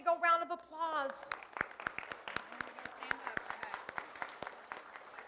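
Scattered, fairly thin clapping from a school assembly crowd, with individual claps audible as sharp separate cracks. It starts under a speaking voice, then continues alone, quieter and sparser.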